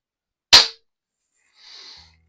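A CO2 replica revolver, Colt SAA, Remington 1875 or Barra Schofield, fires one sharp, close crack at a target, followed by a softer brief hiss about a second later.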